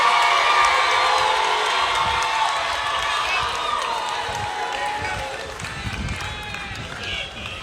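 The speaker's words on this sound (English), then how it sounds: "Let's give the class of 2021 a huge round of applause again." A crowd cheers and applauds loudly for the graduating class of 2021, with whoops and shouting over dense, sustained clapping that fades slightly toward the end.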